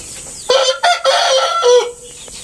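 Japanese Shamo brood cock, fifteen months old, crowing loudly and close, a short strained call broken into a few bursts followed by a softer trailing cluck.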